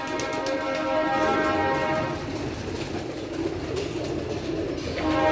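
Pet pigeons coo in low, rolling phrases beneath a steady high tonal hum and background noise, fairly close and continuous, with no talking.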